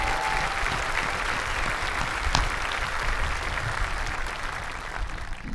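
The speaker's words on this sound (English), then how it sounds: "Let's give them a round of applause for that." Audience applause at a high school graduation ceremony, a dense, steady clapping from a large crowd that holds evenly for several seconds, heard alone without speech.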